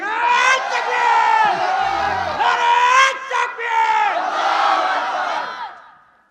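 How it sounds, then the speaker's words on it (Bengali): Crowd at a Bangla religious gathering chanting takbir together, a loud, close mass of voices in rising call-and-response shouts that swell and fade over several seconds before trailing off. "দেন একজন তাকবীর দেন দেখি।"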